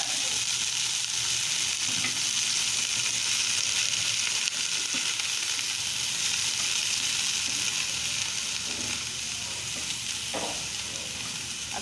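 Boiled cauliflower fries in oil in a pan over a low flame, giving a steady, dense sizzle that stays even throughout, with a few faint stirring clinks near the end and no talking.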